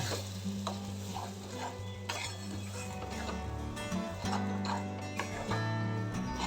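Sugar and salt being stirred into a mixture in a frying pan over low heat while cooking pointed gourd (potol), with steady scraping of the spoon under a continuous sizzle, close and fairly loud.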